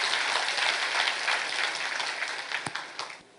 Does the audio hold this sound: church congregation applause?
yes